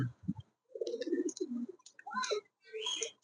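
A black satin pigeon coos in soft, rounded bursts, with a few short chirps and clicks between the calls, heard close and fairly quiet.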